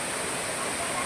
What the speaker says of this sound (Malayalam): നമ്മൾ പാൽച്ചുരം വെള്ളച്ചാട്ടം.